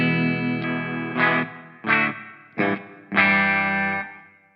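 Distorted electric guitar through an effects preset set to mimic a song's tone: a sustained chord, then four separate strummed chords in an uneven rhythm, each ringing with a chorus-like shimmer before fading, played alone.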